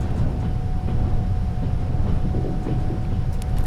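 A train rolls along steadily in the Trans-Siberian Railway Simulator game, a loud continuous low rumble with a constant whine and faint clanks near the end, no talk.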